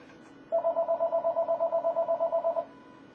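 A phone gives a rapid run of evenly pulsed electronic beeps, about fifteen short tones in a steady rhythm, close and clear in an otherwise quiet room.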